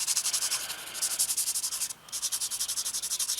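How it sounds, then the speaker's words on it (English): A sanding sponge rubs a plastic part from a 1/72 ICM Tupolev SB-2 model kit, making a steady, fast rhythm of close, quiet scratchy strokes that pauses briefly midway and then resumes. "Might take a while sanding."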